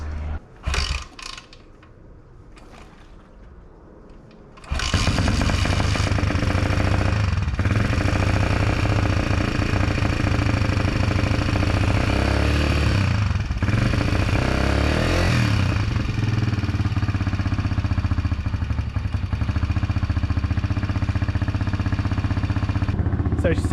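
A Hawk 150 motorcycle engine catches after a few faint cranking sounds, then settles into a loud, steady, rumbling idle that runs on close by for the rest of the stretch.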